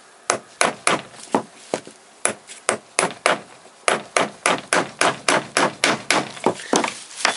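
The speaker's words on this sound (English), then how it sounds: "A little bit more hammering carefully." Loud, close hammer blows strike again and again to drive a piston pin out of a Toyota VVTi engine, coming in quick runs with short pauses.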